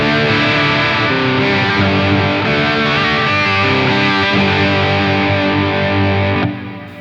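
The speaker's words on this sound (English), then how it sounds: "This is just a cheap Behringer ultra vibrato. It does some pretty crazy weird stuff." A loud electric guitar plays distorted sustained chords through a Behringer Ultra Vibrato pedal, with a warbling, wavering tone, cutting off near the end.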